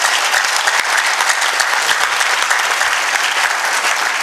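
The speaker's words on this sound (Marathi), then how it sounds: "त्यांचे स्वागत करण्यासाठी मला वाटतं आपल्याकडे टाळ्यांचा भरपूर स्टॉक आहे" Sustained applause from an audience at a memorial lecture, welcoming the lecturer onto the stage; dense, even clapping fills the whole stretch with no voices over it.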